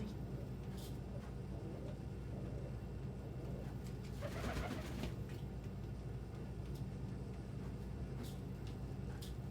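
Pigeons cooing among ambient background noise that includes distant traffic, steady and low throughout with a slightly fuller moment midway.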